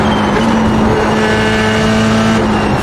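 A Formula 3 race car engine in iRacing at Silverstone drones loudly and steadily at high revs, with slight shifts in pitch suggesting downshifts, continuous and close throughout.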